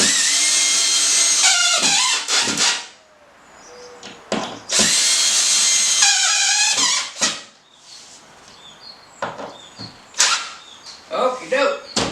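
A power drill drives screws into a replacement window frame outside, in several loud whirring bursts separated by clicks and pauses, with speech heard between runs.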